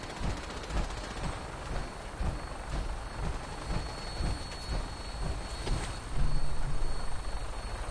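A Vertibird aircraft in Fallout 4 lifting off from an airport, its rotors a steady thumping roar that swells toward the end, with sharp bangs mixed in.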